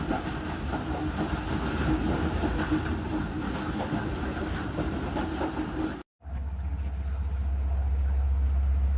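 The Tezgam Express running after leaving Pattoki station, with a loud steady rumble and rattle of the coaches, a brief dropout, then a lower, smoother hum.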